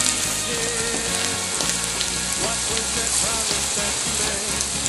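Plantain slices frying in a pan of oil give a dense, steady crackling sizzle, close and even throughout, like light rain, with no voices.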